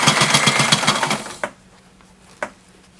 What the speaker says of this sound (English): So I'm putting it in the machine here, and then I'm just going to pinch it and pleat it as I sew.